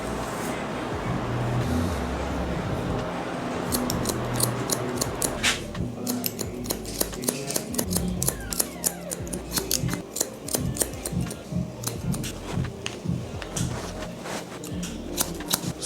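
Scissors snip hair during a modern mullet haircut, a brisk, steady run of close, crisp cutting clicks that comes in after a stretch of rustling and low background noise.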